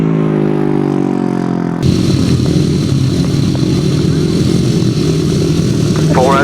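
500cc sidecar motorcycles rev and roar off the start of a grasstrack race, their loud engines rising in pitch and then blaring together at close range while a commentator talks over them.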